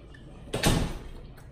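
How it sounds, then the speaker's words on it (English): A door is closed at home with a single sharp thud and rattle lasting under half a second, fairly loud against a quiet room. "Close the door, baby."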